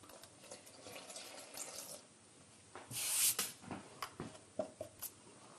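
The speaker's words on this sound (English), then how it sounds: "Proper temperature of water." Water poured from a yeast packet prep into a bread machine, a quiet trickle and brief splashy gurgle with soft clinks and handling knocks, close and intermittent, one louder slosh midway.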